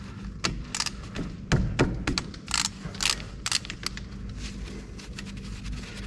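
Short metallic clicks and ratcheting bursts from a wrench working a 13mm bolt on an Abarth's Bosch brake caliper, irregular and close, with quiet pauses between turns.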